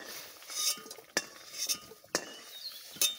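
Boiled potatoes lifted out of a cooking pot with a utensil; three sharp metallic clinks stand out against soft scraping and faint background noise.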